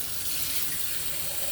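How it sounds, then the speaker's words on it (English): Water runs steadily from a tap into a cooking pot, a continuous close hiss and splash with no talking. "I'm gonna put just a little bit more water inside there"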